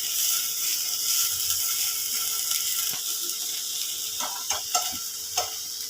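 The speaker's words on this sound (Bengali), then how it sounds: "আর অল্প সোয়া সস দিয়ে আমি গাজরটাকে একটু সটে করে নিচ্ছি" Carrots sauté in a pan with soy sauce, giving a steady hiss of sizzling and a few sharp scraping clicks of stirring near the end, with no talking.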